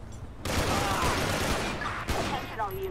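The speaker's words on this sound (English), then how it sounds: "We're taking shots!" A dense burst of gunfire in a police sheriff patrol video game rattles loudly and continuously for over two seconds, with a sharp extra crack partway through and faint voices underneath.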